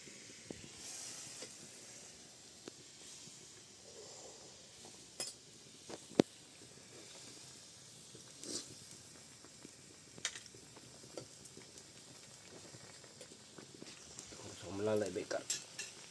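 Chicken curry pieces cooking in a kadhai in a village kitchen: a soft hiss and sizzle with scattered metallic clinks and scrapes of stirring, and a person talking at points.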